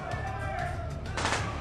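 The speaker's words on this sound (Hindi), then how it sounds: "फिर अचानक उसे गोली चलने की आवाज सुनाई दी।" A gunshot sound effect in a dramatic story scene: a sharp, loud burst near the end rises over a steady low rumble and background noise, with no other clear shots.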